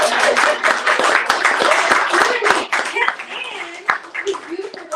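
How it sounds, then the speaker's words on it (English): Audience at an entertainment wealth summit applauds, dense clapping for about two and a half seconds that thins into scattered claps while a voice talks and a few cheers rise over it. "Guys, give him a round of applause."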